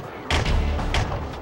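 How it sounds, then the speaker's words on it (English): Three to four shotguns fire almost together in the video game WinBack, making a short, loud burst of overlapping booming blasts. "3 to 4 shotguns all at once."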